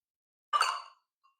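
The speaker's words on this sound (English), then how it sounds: "Let's drop that in the water." A silicone-molded ice cube with a spider-web design drops into water, making one short, close splash-plop followed by a faint tinkle.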